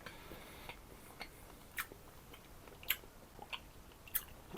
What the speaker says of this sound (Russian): Я попробовал с пивом, сейчас жую.